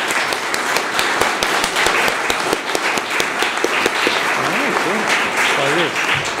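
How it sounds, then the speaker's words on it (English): Sustained audience applause for a panel of international criminal tribunal chief prosecutors, dense steady clapping filling the room throughout, with a voice briefly audible toward the end. "Please join me in a very warm thank you and applause for our panel."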